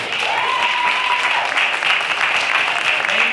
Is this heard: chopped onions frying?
no